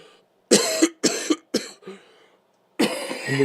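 A series of loud, harsh coughs close by, three quick bursts, a pause, then a longer rasping cough.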